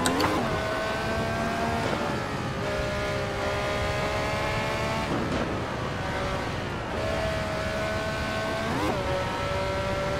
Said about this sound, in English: Thing revs pretty high.